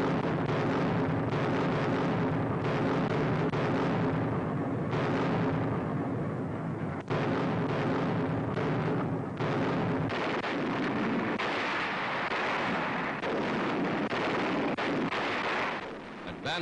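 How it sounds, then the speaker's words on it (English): A naval artillery barrage during a night assault, heard as continuous rumbling booms and blasts layered into a dense, loud roar on an old archival soundtrack. "The assault begins at night with a terrific naval barrage."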